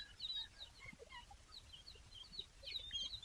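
Chickens on a farm cluck and call softly in short, scattered bursts, distant and faint against a quiet outdoor background, with no voices.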